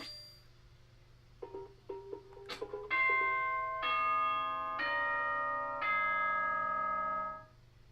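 A chime melody in the Danganronpa: Trigger Happy Havoc video game, a series of clear bell-like tones that start with short plucked notes and build into long sustained ringing chords, loud and alone before fading.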